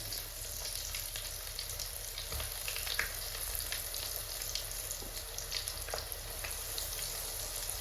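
Coated potato fries sizzle steadily in hot oil for homemade chicken loaded fries, a close, continuous crackling hiss with small pops and no talking.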